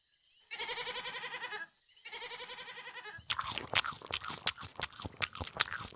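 A goat gives two long, wavering bleats close by, separated by a short gap. Then come quick, irregular crunching and tearing sounds like chewing or biting, fairly quiet overall.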